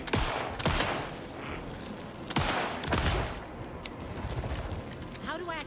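Gunfire in the video game Alan Wake 2: a few sharp, loud single shots spread across the span, with clinking and scraping between them and a voice talking over parts.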